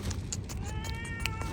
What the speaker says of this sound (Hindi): ये हमारी लाडली बिल्ली है